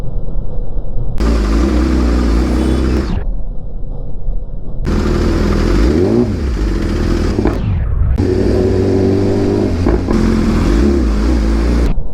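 Car engine revved hard in several long bursts, each rising then falling back to a low idle between, loud and close with no voices.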